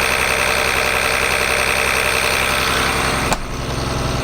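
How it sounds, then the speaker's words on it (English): A Cat C7 7.2 liter turbo diesel engine idles in a 2006 Blue Bird All American school bus, a steady, loud, even rumble with a brief click near the end as the sound drops slightly. "Turbo diesel engine right there."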